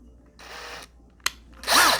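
A cordless power drill tightening a part on a small hydroponic tote unit with a short whir and a sharp click, then a louder, longer spin as it runs in reverse, close by with no speech.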